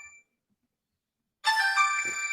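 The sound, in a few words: phone ringing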